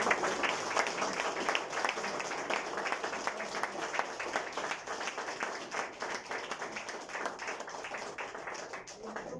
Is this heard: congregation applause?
yes